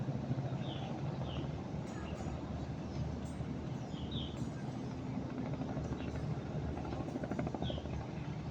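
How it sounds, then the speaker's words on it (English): A helicopter takes off near a long beach, its steady rotor drone rumbling at a distance throughout, with faint bird chirps scattered on top. "you're seeing one of the helicopters take off."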